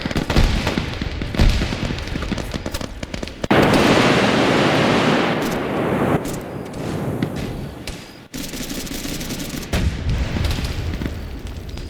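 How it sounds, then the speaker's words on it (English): Repeated booming explosions and thuds in a military video game mission, loud and close with dense rumbling blasts and crackling debris, some bursts overlapping, with no clear talk. "they're getting a bit much with the fucking explosives, don't you think?"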